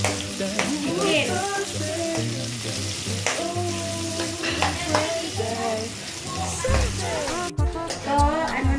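Chicken pieces frying with onion in a hot pan for pansit gisado, a steady loud sizzle with stirring scrapes throughout, close up and continuous.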